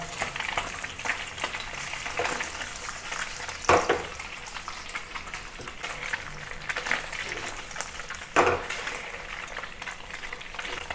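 Tofu sizzles and crackles steadily in a hot pan, close and continuous. Two sharp spatters or clatters mark the flipping of the pieces.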